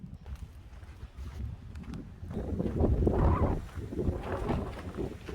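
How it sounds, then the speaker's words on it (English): Strong gusts buffet a microphone outdoors at Shiloh, a heavy low rumbling roar that swells and fades unevenly throughout. "It's too windy."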